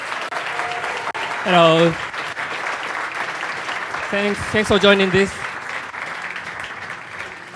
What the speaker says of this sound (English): So everyone give a round of applause to Mr.